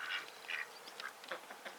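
Ducks on an Australian homestead quack in several short, fairly soft bursts spread unevenly across a brief moment, with no voices present.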